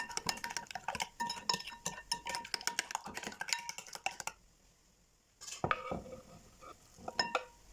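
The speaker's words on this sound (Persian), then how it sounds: "همه مخلوطمون رو با هم میزنیم." A utensil scrapes and clinks against a bowl in quick, busy strokes, mixing a seasoned cabbage mixture, pauses briefly, then a few more knocks and clatters follow.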